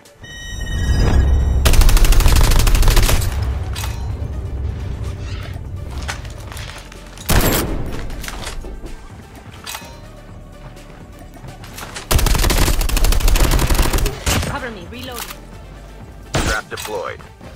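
AK-117 rifle and MK2 marksman rifle shots in Call of Duty Mobile battle royale: several loud, sharp bursts of gunfire separated by quieter stretches, mixed with crash-like impacts and game alert tones, with a voice talking over parts of it.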